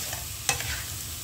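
Banana blossom stir-fried in a pan, one brief sharp clatter of a utensil against the pan over a low steady sizzle, close and fairly quiet.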